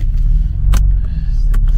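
A car engine idles with a loud, low, steady rumble close by on a cold, rainy day, with a couple of sharp clicks or knocks over it.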